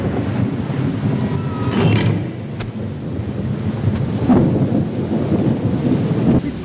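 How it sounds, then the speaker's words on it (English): Theatrical thunderstorm on stage during a King Lear performance: a continuous roar of rain and wind with rumbling thunder swelling in waves, loud and close, with no voices over it. "Come out of the storm!"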